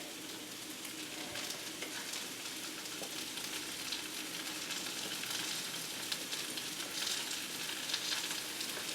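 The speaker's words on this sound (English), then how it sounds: "we're just going to take a few moments and spread our triangles of tofu into the pan here" Triangles of tofu frying in a pan over medium-low heat for a vegan Asian stir fry, a soft, steady crackling sizzle with faint spattering pops throughout, close and even.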